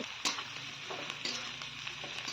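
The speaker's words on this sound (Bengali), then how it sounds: "পেঁয়াজটা এতক্ষণ ভেজে নিলাম দেখো এরকম ভাজা হয়েছে" Onions fry in a pan with a quiet, crackling sizzle, broken by a few sharp clicks and scrapes of stirring, close by and with no voices.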